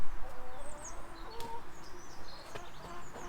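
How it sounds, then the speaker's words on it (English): Chickens cluck in short, scattered calls, close by in a garden. "Chickens are out."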